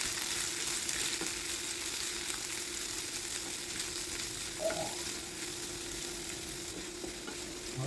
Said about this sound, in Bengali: বাঁধাকপি দিয়ে মাত্র 1 মিনিট মতো আমরা নাড়াচাড়া করে নেব প্রথম দিকে।